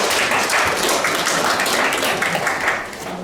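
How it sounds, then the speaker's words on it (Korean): An audience at a policy forum on platform freelance workers breaks into a few seconds of dense, steady applause that fills the room and then starts to thin out. "박수로 시작하겠습니다."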